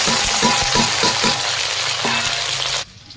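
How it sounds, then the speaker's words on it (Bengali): Chopped onions with spices frying in a pan for a chicken dish, a loud, continuous sizzle with rhythmic stirring strokes through most of it before it drops away abruptly near the end. "এই যে মশলা পেঁয়াজ কুচি ভাজতেছি এখন"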